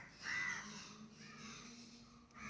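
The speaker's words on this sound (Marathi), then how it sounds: "त्याच्यामुळे ही कावळं इथंच असते ती अशी." Crows caw among tall trees in a green rural setting, one loud harsh caw near the start followed by fainter calls, fairly close and alone against quiet background.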